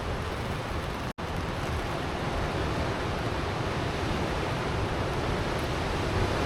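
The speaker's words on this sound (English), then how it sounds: "It's the rain." Steady storm rain hisses against a constant roar of 45 mph wind gusts through woodland trees, broadband and unbroken, with a brief dropout near the start.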